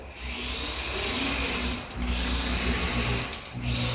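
A screw is driven through drywall into a wooden stud during a wall repair, heard as a close, whirring power-drill drone that runs in two long bursts with a brief pause and a short final spin.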